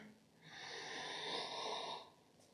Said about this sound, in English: Coming into your last round of breath here.